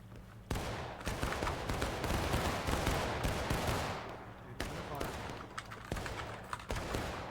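Ragged musket volleys from Civil War-era infantry in War of Brothers, with a Union regiment firing at will: repeated loud cracks and rolling bursts, some sharp single shots standing out over a sustained din.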